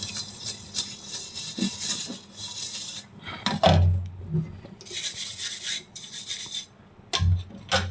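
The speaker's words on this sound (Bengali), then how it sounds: "তো আমি আগে রাইস কুকারটা একটু পরিষ্কার করে নিচ্ছি।" A rice cooker pot is scrubbed clean by hand, with repeated close rasping and rubbing strokes in bursts and light clanks of the metal pot between pauses.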